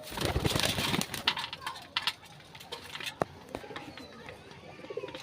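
Madrasi pigeons cooing close by, repeated soft throaty coos in irregular bursts with a few sharp clicks and small knocks between them.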